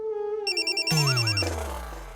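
A telephone ringtone sounds as a layered electronic melody of bright repeating tones and sweeping chirps, loud and close, with no talking over it.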